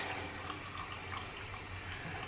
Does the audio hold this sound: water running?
yes